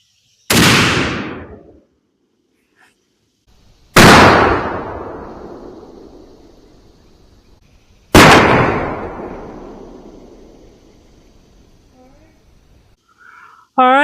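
Three sharp gunshots ring out outdoors at target water jugs, spaced roughly four seconds apart. Each loud crack is followed by a long, fading echo, with a brief noise at the very end.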